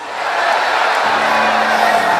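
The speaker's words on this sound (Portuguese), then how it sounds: "Se você deu esse grito de glória, se prepare." A congregation in a gymnasium at a church event shouts a cry of glory, a loud, sustained roar of many voices that swells and holds, with cheering and whoops blended into the crowd noise.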